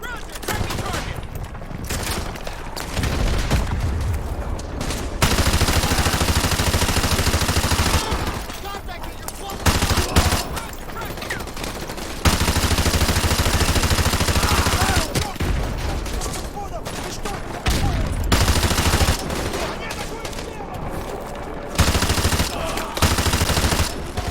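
Heavy gunfire in the video game Call of Duty Modern Warfare 2 Remastered, long loud automatic bursts broken by short lulls, with voices talking over parts of the fighting.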